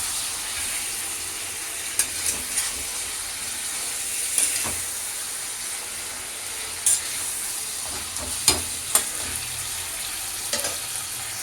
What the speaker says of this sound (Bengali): ধুয়ে রাখা মুরগির মাংসটা আমি তেলের উপরে দিয়ে দিয়েছিলাম, দিয়ে 2-1 সেকেন্ড একটু নাড়াচাড়া করে আদা রসুন বাটাটা এখানে দিলাম, করে নাড়াচাড়া করে নিই।